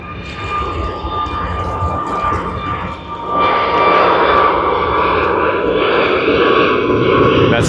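An arriving jet airliner from San Francisco roars in at Sydney Airport with steady whining engine tones, growing louder and fuller about halfway through as it passes close.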